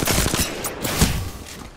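Gunfire in a battle royale video game, a rapid burst of several close, loud shots followed by a couple of heavier blasts, with no talking.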